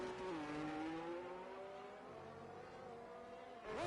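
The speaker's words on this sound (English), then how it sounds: "Can you do the engine sound separately compared to the rest of the game?" A car engine in a racing video game drones steadily at a fairly constant pitch, quiet and continuous, then swells and rises sharply in pitch as it revs up at the end.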